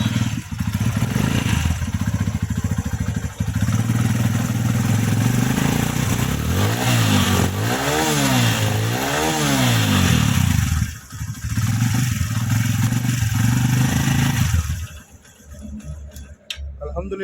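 A Suzuki GS 150 motorcycle, freshly tuned with tappets adjusted, starts and runs at a steady close-up idle, then revs up and down several times before settling and cutting out near the end.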